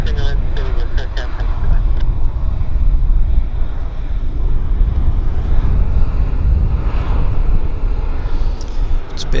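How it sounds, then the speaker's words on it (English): A Delta Airlines Boeing 737 from Minneapolis landing at Vancouver Airport, its engines a loud, steady roar that holds throughout, with people talking over it. "This is our Delta Airlines 737 from Minneapolis"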